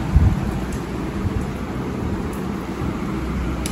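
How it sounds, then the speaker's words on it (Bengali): Steady, dense rain noise fills the clip, heavy and continuous, with a low rumble underneath and no voices. "বৃষ্টি হয়ে যাচ্ছে অনেক বেশি"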